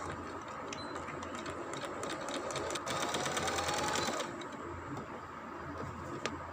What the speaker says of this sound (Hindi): यहाँ से हम सिलाई लगाना शुरू करेंगे। स्टार्ट से हम सिलाई को डबल कर लेंगे।